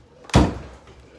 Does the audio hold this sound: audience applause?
no